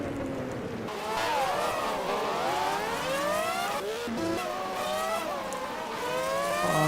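Race car engines roar through a Porsche 911 RSR racing game at Okayama, with rising and falling harmonic whines from several cars shifting and revving continuously, loud and close, with brief tire squeals.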